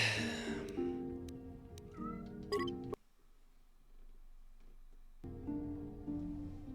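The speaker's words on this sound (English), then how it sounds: "Just heard my cat, but I don't know where he is." A pet cat meows several times nearby, with drawn-out, clearly pitched calls, separated by a short quiet gap and then a longer final meow.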